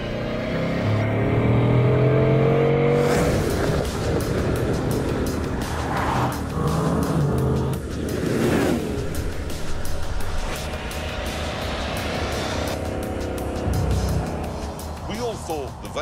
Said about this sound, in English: It's the fastest car in the world. It's an 8-litre monster with 16 cylinders